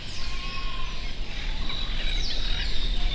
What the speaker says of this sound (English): Watching and listening to birds.